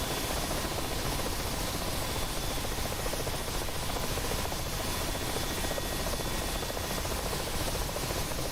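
An AH-64D Apache helicopter in the DCS flight simulator game comes in to land on a helipad at night, a steady, loud rotor and turbine roar with broadband noise that continues unbroken throughout.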